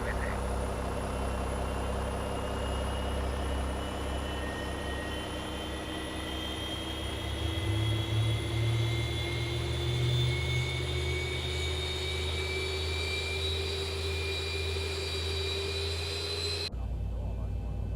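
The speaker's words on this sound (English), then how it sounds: "you can see the engine starting up." Boeing 737-800 engine spooling up during start in the X-Plane 11 flight simulator, a steady rising whine with slowly climbing tones over a low turbine rumble, continuous for many seconds before cutting off abruptly.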